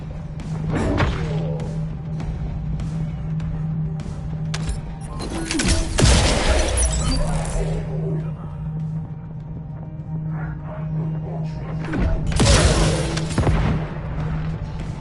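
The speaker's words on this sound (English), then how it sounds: "Firing electro bomb." Electro bomb fired in a video game: a steady low hum broken by two heavy booming thuds with rushing bursts, loud and close, with sparse game sounds between.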